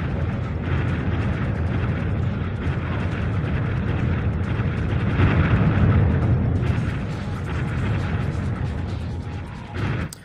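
Explosions in the Army Men video game, a dense, continuous roar of loud booms and blasts layered over one another for the whole stretch, with a brief dip near the end.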